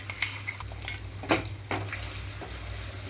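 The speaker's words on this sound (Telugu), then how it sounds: "మీడియం ఫ్లేమ్లో ఉంచి ఒక రెండు నిమిషాల పాటు వేయించుకుంటున్నాను" Spinach and fresh coconut paste frying in a tempering over a medium flame for a Telugu-style wheat rava kichidi, with soft sizzling and occasional spoon stirs and scrapes against the pan, close by and without talk.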